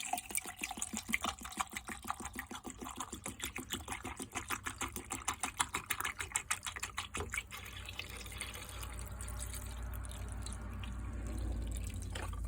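Film developer chemical poured into a developing tank, a rapid rhythmic glugging and dripping pulse that fades after several seconds into a steady low rushing fill.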